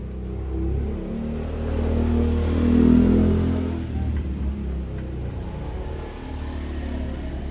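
A lowered Honda Wave 110 motorcycle engine revs, its mid-pitched drone swelling to a peak and then easing back to a steady rumble.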